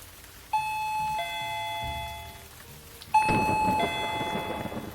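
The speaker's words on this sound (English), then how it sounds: "Then the doorbell rang." A doorbell chimes twice in a quiet old house during a thunderstorm, each ring a clear two-tone ding-dong with ringing overtones, the second press followed by a soft noisy rustle.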